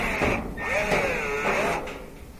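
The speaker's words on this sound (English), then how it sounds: "We're going to use a 5/16 to zip this one out." A power nut driver with a 5/16 bit whirs in short bursts, its motor pitch rising and falling as a screw is backed out of a Kenmore/Whirlpool dryer, close by.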